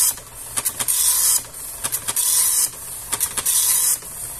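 An Epson LX-300 dot matrix printer with a line-overlap fault printing, a close, loud, high buzzing rattle in repeated bursts, each line broken by short pauses as the head returns.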